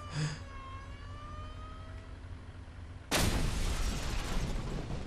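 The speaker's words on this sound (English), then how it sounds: "Wow, and that was a huge explosion." A huge explosion in the video game Just Cause 2 bursts in suddenly and loudly as a broadband blast with a rumbling tail, after a few seconds of quieter game engine hum and tonal sounds.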